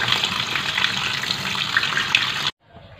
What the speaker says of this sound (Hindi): अब हम इसके ऊपर टैप वाटर डाल देते हैं